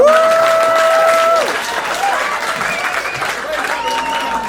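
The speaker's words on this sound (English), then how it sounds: "Can I get a round of applause?" Audience applause at a talk show, steady clapping from a crowd with a sustained tonal sound, likely music, over it at the start, then fading a little as the clapping carries on.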